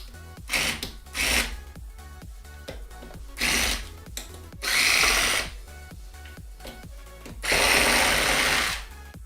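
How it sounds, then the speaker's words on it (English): A power drill backs screws out of a hoverboard's bottom plastic cover, with several close, loud whirring bursts of varying length separated by brief pauses and small handling clicks. "So let me go ahead and get started by removing the screws."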